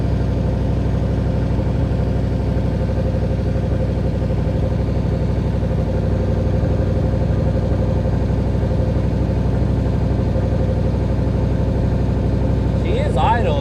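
A third-generation Chevrolet Camaro engine idles a little high, a steady close low rumble holding even for the whole stretch, with a short faint sound near the end.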